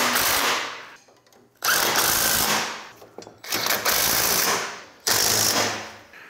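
A 9/16 wrench snugs bolts during assembly of a zero-turn dethatcher attachment, heard as three loud bursts of mechanical whirring with short quieter gaps between them, close up and with no talking.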